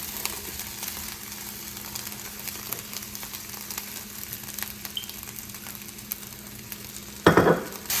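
Tomatoes sizzle steadily in olive oil in a frying pan, a soft continuous crackle with one brief louder stir or clatter near the end.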